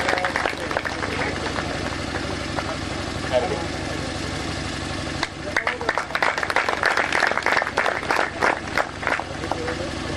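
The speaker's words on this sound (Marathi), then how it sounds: "टाळ्या वाजवा जोरात" A crowd at an annual temple yatra festival claps, and the clapping swells into dense, lively applause halfway through, with a voice speaking over the crowd.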